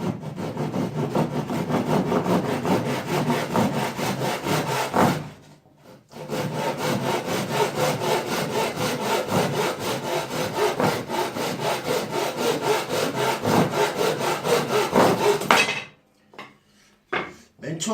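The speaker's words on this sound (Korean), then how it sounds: "굳이 저기 전기 쓸 필요 없이 톱으로 잘라도 금방 자르니까요." A hand saw cuts through thick plate with brisk, rhythmic rasping strokes that run close and steady, pause for a moment, continue, and then stop with a few final scrapes.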